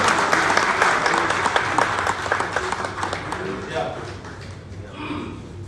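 An audience at a Gurjar Mahasabha national executive meeting claps to welcome Guru ji, a thick burst of applause that gradually thins and fades, with a voice briefly audible toward the end.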